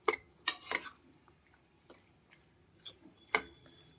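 Utensils clink and scrape against a bowl while a salad is tossed together, a few sharp ticks and clatters spaced out with quiet gaps between.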